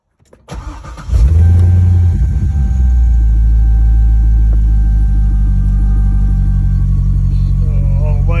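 A sporty car's engine cranks briefly, catches with a loud roar, then settles into a deep, steady rumbling idle up close, with a faint high whine running over it.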